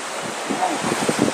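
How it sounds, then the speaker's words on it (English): Wind gusts across the front deck of a cruise ship at sea, a broad rushing roar with buffeting on the microphone growing stronger toward the end, close and fairly loud with no voices. "It is windy. Because we went to the front of the ship and it was windy."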